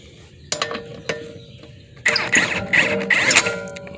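Ratchet tightening the wheel lug nuts on a 2004 Dodge Durango: a few short clicking pulls at first, then rapid loud ratcheting bursts in quick succession, metallic and close in a quiet garage.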